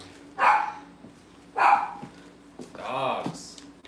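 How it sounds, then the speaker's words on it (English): Big dogs bark in a kitchen alongside Cavalier puppies, sounding two sharp, loud barks about a second apart, followed by a longer, wavering whine or howl. "Dogs."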